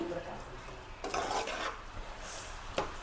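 Pieces of mutton stirred in a pan with fried onions, a soft scraping and rubbing of a spoon against the pan over a faint sizzle, close and steady with no voices.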